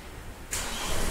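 A Chevrolet Tavera with a newly replaced starter motor cranks and fires up, the quiet before giving way abruptly to a broad, steady engine roar midway through the short clip.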